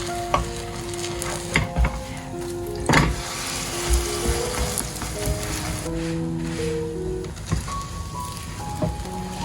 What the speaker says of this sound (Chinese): 全程大概煎10分钟左右，